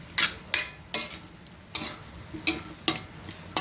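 A utensil stirs a pork dish in a pan, giving about eight sharp scraping clacks at an uneven pace, close and clear with no talk.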